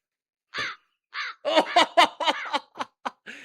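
A human voice mimics a bird, giving a series of harsh, crow-like caws in short, uneven bursts up close, with a laugh-like quality to some calls.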